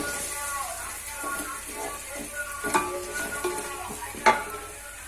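Tomato pieces cooking in a pan being stirred, soft scraping and utensil clinks over a low sizzle, with a voice talking over the cooking.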